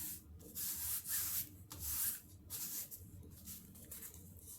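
Paper glued onto a junk journal page is rubbed down by hand in bursts of dry, papery scraping strokes, several long sweeps and then shorter, softer rubs, close and clear with no talking.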